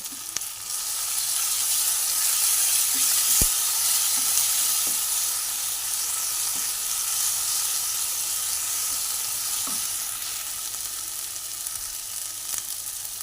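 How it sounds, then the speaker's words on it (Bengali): Chopped green chilies frying in hot oil while preparing stuffed pointed gourd, a steady, close sizzle with a few faint utensil taps scattered through it. "আর কুচিয়ে রাখা কুচিয়ে রাখা লঙ্কাগুলো আমি দিয়ে দিলাম"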